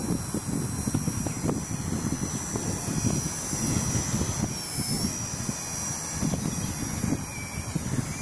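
A small quadcopter running on a 3.7V 250mAh 1S lipo battery hovers outdoors in wind, its high-pitched propeller whine holding steady throughout under constant rumbling wind noise on the microphone.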